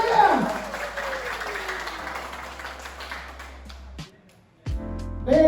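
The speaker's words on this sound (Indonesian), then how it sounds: "tepuk tangan semuanya!" A crowd at a national ZX25R motorcycle club gathering in Indonesia applauds for about four seconds under a loud voice, then the clapping drops away.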